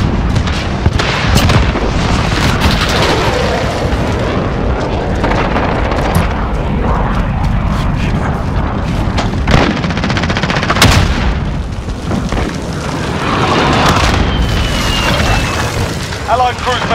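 Gunfire and explosions in Modern Warfare gameplay, with dense rapid shots, heavy booms and rumbling blasts filling the whole stretch loudly while voices talk over the combat.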